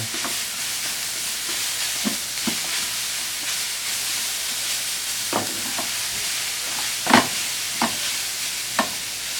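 Chayote pieces stirred and sautéed in a pan with other vegetables, a steady soft sizzle under intermittent scraping and clacking of the utensil, close and moderately quiet, with no talk.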